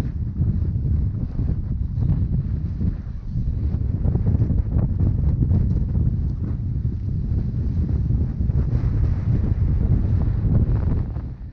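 Strong wind roars and buffets the microphone steadily on exposed Windy Point Ridge in the David Thompson region near Nordegg, a dense low rumble with no pauses.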